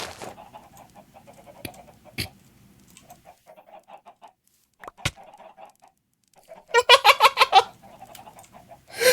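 Chickens cluck underground in a building video game, with a steady run of soft, close clucks, a few sharp clicks, and a louder rapid flurry of clucking near the end.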